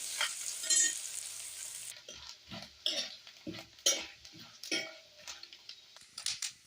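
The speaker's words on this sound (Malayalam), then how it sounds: "ബീഫ് കറി വെക്കാനായിട്ട് ഇങ്ങനെ ഉണക്കത്തേങ്ങ ഇങ്ങനെ അരിഞ്ഞെടുത്തത് നമ്മളൊന്ന് മുപ്പിച്ചെടുക്കുവാണ്." Sliced dried coconut for beef curry roasts in a pan, first as a steady sizzle, then as repeated scraping stirs with clinks of a spoon against the metal pan, close and fairly quiet.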